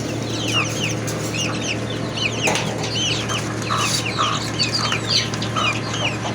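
A flock of hens and small chicks at feeding time fill the air with steady clucking and high peeping chirps, continuous and fairly close, over a constant low hum, with no talking.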